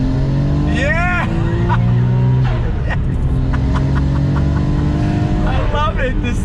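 A 1995 Nissan Skyline R33 GT-R V-Spec pulls hard in second gear with a loud, close engine note that builds under throttle, while a person talks over it.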